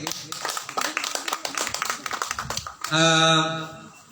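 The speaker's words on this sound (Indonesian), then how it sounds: "tepuk tangan sekali lagi" A crowd claps in brisk, dense applause for a few seconds, then a voice calls out loudly over the end of it.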